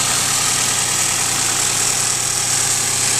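A 1997 Geo Metro engine idles steadily at close range, a constant low rumble with a broad noisy hiss and no variation in pace.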